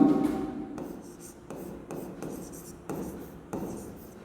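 Short, regular scratching strokes of writing on a board in a physics lesson, about half a dozen bursts in a steady rhythm, close by, with faint talk in the room.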